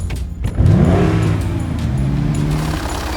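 A Maserati accelerates with a sharp close revving surge, the deep exhaust note climbing in pitch and then holding a steady throaty drone as the car speeds along.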